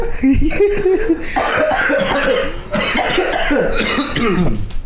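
Repeated harsh coughing from someone who is ill, close and loud, mixed with bursts of laughter and chatter between several people in a casual indoor podcast setting.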